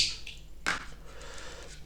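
Rusty scissors snip through fishing line while a drop-shot rig is being tied. A single crisp click-like cut comes close up over faint room noise.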